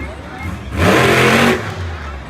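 Monster truck Hooked, driven by Frank Kreml at a Monsters v. Megas monster truck event, revs its engine in a loud, broad roaring burst that swells briefly in the middle and then falls back under arena noise.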